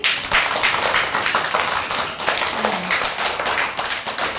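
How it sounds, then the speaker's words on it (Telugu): Children in a classroom clapping for classmates, a steady patter of many small hands held for several seconds under light room noise, with a brief faint voice near the middle. "అందరు క్లాప్స్ కొట్టిన వీళ్ళకి"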